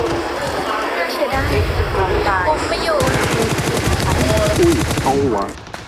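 Video game shootout gunfire, rapid bursts of automatic weapons rattling loudly in fast repeated volleys, under an excited commentator talking throughout.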